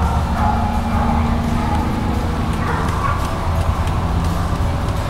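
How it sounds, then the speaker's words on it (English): Mountain cur dogs bark at a treed raccoon outdoors, a steady dense layer of baying and yipping that stays loud and continuous throughout with no pauses. "just start barking."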